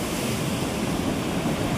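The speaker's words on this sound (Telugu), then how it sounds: "మనకి వాటర్ ఫ్లో అనేది బాగా అక్కడ మొత్తం ఫోమ్ లాగా కనపడుతుంది" Water gushing through the opened Nagarjuna Sagar dam gates, raised about ten feet, churning into foam; a steady, loud broadband roar of rushing water, continuous and unbroken with no voices.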